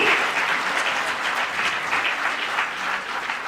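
A ceremony audience in Ranchi applauds during a memento presentation at an event where the Chief Minister hands out appointment letters, a steady, dense crowd clapping that holds an even level throughout.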